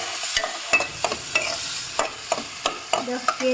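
Onions sautéing with salt in a pan make a continuous sizzle, broken by regular scraping strokes of a spoon stirring close by.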